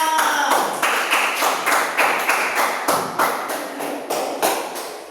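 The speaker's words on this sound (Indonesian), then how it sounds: "Terima kasih untuk kelompok A, tepuk tangan" A classroom group claps in thanks for group A, steady rhythmic hand claps in a loose beat, close and fairly loud, with no talking over them.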